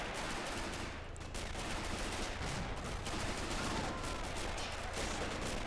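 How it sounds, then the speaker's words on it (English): Mortar shells landing again and again in a World War II battle game on the Eastern Front, heavy muffled booms and crackling gunfire rolling on steadily through a dense, noisy battlefield din, with no clear pauses. "mortars are still landing back here"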